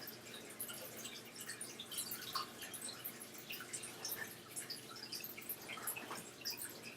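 Water trickles and drips steadily, a close, crackling stream of small splashes running for several seconds with no talking.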